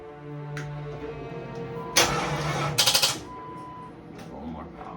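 Car with a dead battery being cranked on a jump starter: a quiet idle-like hum, then two bursts of harsh whirring cranking, the second ending in quick stuttering pulses, with faint noises around.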